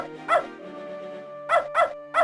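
Spunky the dog from the game Beneath A Steel Sky, swimming in a lake, barking in sharp single woofs, one early bark then three in quick succession over a soft sustained musical backdrop.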